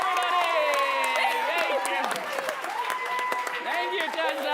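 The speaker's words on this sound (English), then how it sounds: "Give Tessa a round of applause" A main stage show audience applauds for Tessa, the clapping mixed with loud whooping and cheering voices that rise and fall throughout, a lively crowd roar from start to finish.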